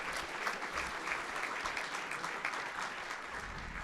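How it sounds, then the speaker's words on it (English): Sustained applause from a conference audience at a data and AI summit in Nebraska, steady and dense clapping throughout with no break, fairly close and even in loudness. "Round of applause for Eric, please."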